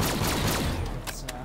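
Shotgun blasts in a zombies-mode video game, with bursts of rapid gunfire and a brief mechanical clack, loud and dense throughout with no talk.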